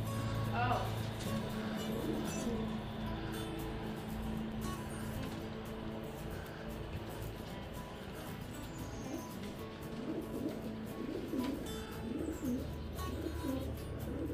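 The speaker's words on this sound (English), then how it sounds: "Pigeons." Pigeons coo softly outdoors near a fishing spot by a bridge, low burbling calls under steady background noise and people talking.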